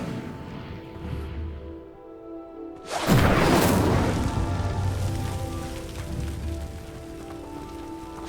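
Incendio fire spell cast in Hogwarts Legacy, a sudden loud whooshing burst of flame that flares up and then lingers as a steady crackling roar over a soft ambient bed.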